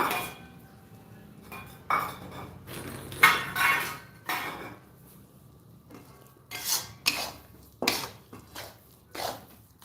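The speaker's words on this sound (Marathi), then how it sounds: "हे बघा ही अशी कढई खाली करून घेतली आहे गॅसवरून" A metal kadhai lifted off a gas stove while making gul papdi (jaggery sweet), with a series of sharp metallic clanks, scrapes and clinks in irregular bursts, close and fairly loud, with no voices.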